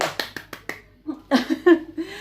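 A quick run of five sharp hand claps given as a welcome, close and crisp, followed by a person speaking and laughing.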